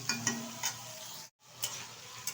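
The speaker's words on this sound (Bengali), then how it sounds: "মাশরুমটা দেওয়ার পর বেশ কিছুক্ষণ কিন্তু নেড়ে চেড়ে নিয়েছি।" Mushrooms and dried fish being stirred in a sizzling frying pan, a few close scraping strokes over a steady hiss with a brief break midway.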